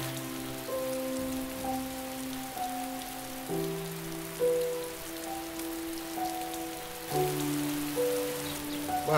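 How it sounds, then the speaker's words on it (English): Heavy rain falls steadily on surfaces, forming a continuous hiss throughout, while a sustained musical tone plays underneath. "Well, it's really tipping it down now."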